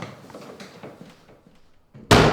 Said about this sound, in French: ferme cette porte